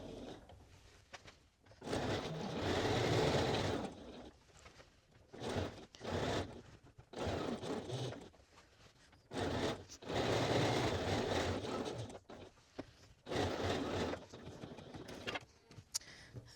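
A sewing machine stitches a quarter-inch seam on a bomber jacket front in several short bursts, starting and stopping with brief quiet gaps between runs, moderately loud and close.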